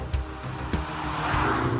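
A 2013 Ford Focus ST driven hard through corners, its engine droning close inside the car with tire squeal and a brief skid rising over the steady hum, no speech.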